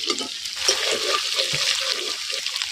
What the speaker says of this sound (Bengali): তাই এরকম করে করে আলু ভাজতে হবে?